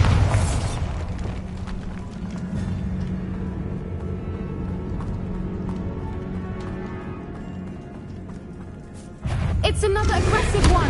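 Bombarda spell explosions boom in a video game, a deep rumbling blast at the start and another heavy burst near the end, with talk running under the game sounds.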